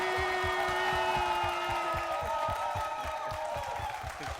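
Dense, steady applause from a TV studio audience welcoming a dancer, rapid claps sustained throughout with some faint crowd cheering and a tonal backing underneath.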